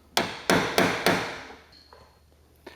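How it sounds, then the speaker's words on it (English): A small hammer strikes a punch, an old bolt, four times in a steady rhythm, driving pins into the door hinges of an 88-98 Chevy 1500 truck, sharp metallic blows close up, followed by faint clinks. "a little hammer to continue to drive these pins into the hinges"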